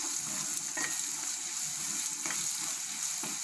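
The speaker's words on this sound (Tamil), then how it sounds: "இதையும் போட்டு நல்லா வதக்கிக்கலாம்." Onion sautéing in a pan for stuffed brinjal fry gives a soft, steady sizzle with a few faint stirring scrapes, quiet and close, no voices.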